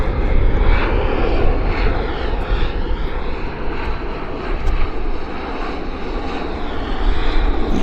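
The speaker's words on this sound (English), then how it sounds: "Yeah, quite a decent landing" An airliner landing at Vancouver International Airport (YVR), its engine roar loud and steady throughout, with a broad rushing drone that swells slightly at the start and end.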